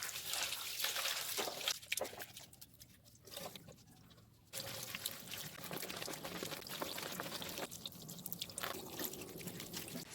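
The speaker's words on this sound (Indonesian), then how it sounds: "kita harus mencuci semua bahan-bahan ini dengan air mengalir" Cooking ingredients for a gastritis hospital menu are washed under running tap water, a steady close splash and pour that briefly drops to a softer trickle midway before resuming at full flow.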